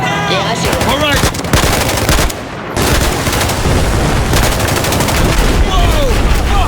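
Heavy automatic gunfire in the video game Battlefield 4, loud sustained bursts with a brief break, mixed with explosive booms and shouting soldier voices over the battle.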